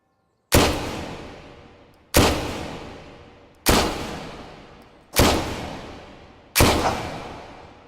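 Gunfire in a video game: five loud, sharp shots spaced about one and a half seconds apart, each with a long echoing decay that fades before the next blast.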